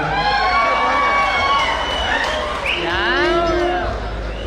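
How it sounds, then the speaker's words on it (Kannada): A large crowd at a Congress Prajadhwani political rally in Madikeri roars, cheers and applauds, with whistles and shouting voices over a loud, unbroken wash of noise. "ಜೋರಾದ ಚಪ್ಪಾಳೆಯೊಂದಿಗೆ ಅವ್ರನ್ನ ಸ್ವಾಗತಿಸಬೇಕು."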